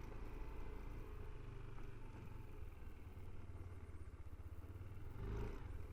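Yamaha NMAX 2020 non-ABS scooter with touring-style modifications, its engine running with a steady low rumble and rising briefly in a rev near the end.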